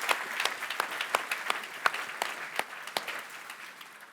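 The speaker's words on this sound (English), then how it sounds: "Let's give all these Category 5 finalists a round of applause" An awards-ceremony audience applauds the Category 5 finalists at the Arkansas Business of the Year Awards, a steady patter of many hands clapping at moderate volume with no talk over it.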